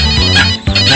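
A phone ringtone plays loudly with a bright melodic tone, sounding continuously through the moment with a brief dip in the middle and no voices over it.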